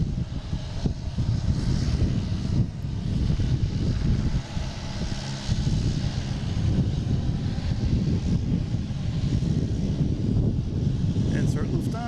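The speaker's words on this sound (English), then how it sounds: "We have a JetBlue heading to Reagan," A JetBlue Airbus A220 bound for Reagan National at Boston Logan airport, a broad steady jet engine roar with wind noise, while a voice talks over it.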